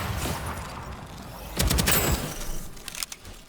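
Bursts of enemy gunfire in the shooter Deadzone: Rogue crackle at moderate distance, with a denser volley in the middle followed by scattered shots against a noisy background.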